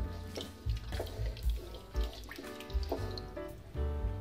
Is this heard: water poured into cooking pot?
yes